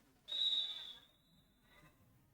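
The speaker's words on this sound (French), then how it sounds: "Coup de sifflet final et victoire pour les Bee Gees." Final whistle from the referee at a French roller derby match, one sharp shrill blast lasting under a second, followed by a fainter trailing tone over quiet background murmur.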